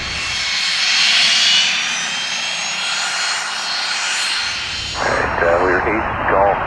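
Cessna Citation business jet holding short of runway 24 at McClellan-Palomar Airport, its steady high engine whine loud and continuous, with brief talk over the noise near the end.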